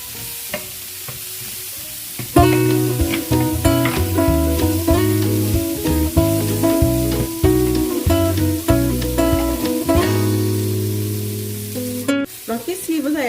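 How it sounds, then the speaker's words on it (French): Lemon juice poured into a pan of prawn fried rice cooking Senegalese style, with steady loud frying sizzle and stirring throughout, and a sharp clatter near the end. "Et puis là, je mets du jus de citron."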